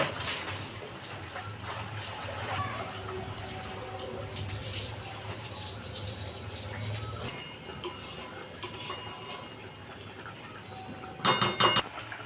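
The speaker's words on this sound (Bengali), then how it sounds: "আমি এবার পটলটা ছেড়ে দিই।" Pieces of pointed gourd (potol) drop into a pan of simmering curry for tel potol, bringing wet splashes and bubbling, metallic clinks of utensil against pan, and a brief cluster of sharp clatters near the end.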